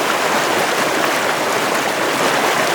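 Floodwater in Utawala rushing steadily in a loud, continuous broadband roar, close and unbroken, with no voices over it.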